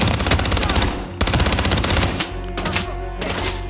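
Rapid automatic gunfire in the video game Hitman 2 rattles loudly in dense bursts, pauses briefly, then resumes with more shots.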